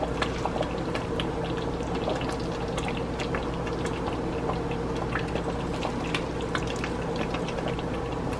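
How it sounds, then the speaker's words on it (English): Cooked noodles tipped into a pot of hot chicken alfredo sauce with broccoli, giving a steady wet bubbling and sloshing with scattered soft drips and clinks, close and continuous without talk. "Now I'm gonna put the noodles inside of the sauce."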